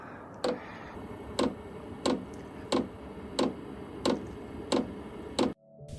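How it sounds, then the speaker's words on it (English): A diesel heater's fuel pump primes with a steady series of sharp mechanical ticks, about one per second, repeating evenly over a low background hum, then cutting off abruptly. "The noise you're hearing is the priming of the diesel."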